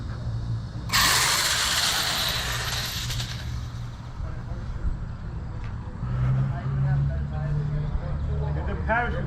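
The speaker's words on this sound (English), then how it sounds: "you don't hear me pulling the throttle gradually?" A 1/10 scale RC on-road drag car's electric motor whines and revs as the throttle is worked, a steady close mechanical drone with a rising pitch near the end, while people talk over it.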